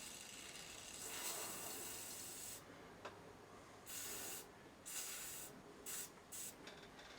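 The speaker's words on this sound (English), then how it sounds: "Use the spray oil, it's fucking easier." Lubricating oil sprayed from an aerosol spray can, a long steady hiss followed by several short bursts of spray with pauses between them, close and fairly quiet, no speech.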